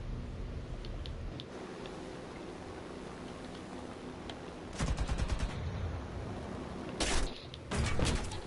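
Aircraft machine guns firing in the air-combat game War Thunder, from a BE-6 plane: short rapid bursts over a constant engine drone, with no speech.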